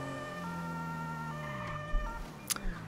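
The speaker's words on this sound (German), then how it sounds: "sekundäre Sirene." A police car's secondary siren in GTA V, on a Mercedes-Benz E-Class, with a tone sliding up and down over steady engine noise, with a couple of short thumps near the end.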